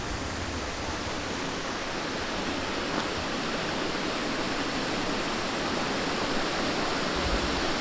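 Steady broadband rush of Amicalola Falls, a waterfall seen through autumn trees in a Georgia state park, a constant even roar with no pauses or voices.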